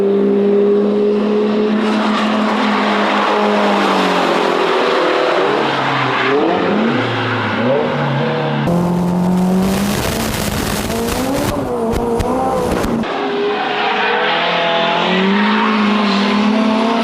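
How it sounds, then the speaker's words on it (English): A Mazda RX-8 and a turbo Honda S2000 race, engines roaring continuously at high revs, with shifting pitch and screeching tires as a car slides sideways at speed; loud and sustained. "Rick has fun with the extra power, using a drifting style. He's very sideways and screaming away from the Mazda."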